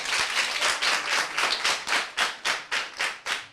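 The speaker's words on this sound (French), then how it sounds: "Applaudissez pour elle." A small group at a Guinean school claps together in a steady rhythm, the applause close and lively, ending with a few distinct slower claps.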